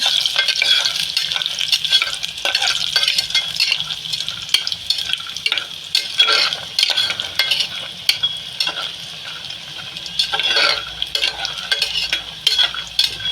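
Homemade lentil dumplings (bori) made from ash gourd and black gram sizzle in a pan, with continuous frying crackle and repeated scraping stirs of a utensil against the metal.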